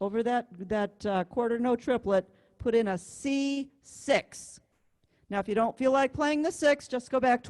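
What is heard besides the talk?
No distinct noise like a dog, phone or traffic.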